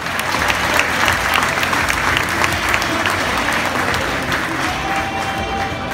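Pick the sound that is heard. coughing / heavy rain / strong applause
strong applause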